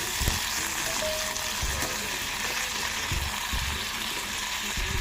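Tomatoes fry in a pan, giving a steady, even sizzle with a few soft stirring knocks from a utensil.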